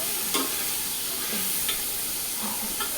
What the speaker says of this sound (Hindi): ये भी डाल के इस तरह मिक्स कर लेना है